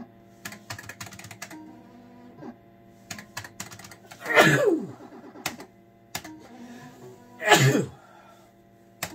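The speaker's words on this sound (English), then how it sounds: "Get a sneeze." Two sharp sneezes, a few seconds apart, burst out over quiet keyboard typing and faint clicks.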